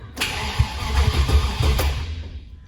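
A Land Rover Discovery 1 engine cranks over with a rhythmic chugging from the starter, close and fairly loud, for about two seconds before stopping, the fuel pump running.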